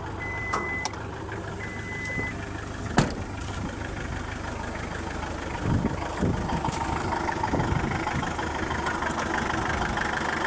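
A Mitsubishi Lancer's engine idles with a steady low rumble, with a few faint knocks and clatters over the drone and a brief high beep early on.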